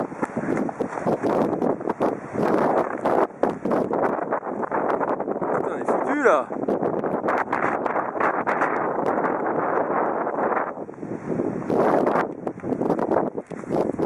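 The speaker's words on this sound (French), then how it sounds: "ce matin on s'est fait vraiment secouer par le vent" Strong winter wind in the Margeride highlands of Lozère, France, buffets the microphone in a loud, continuous roar with gusty surges, while people shout and talk in French over it.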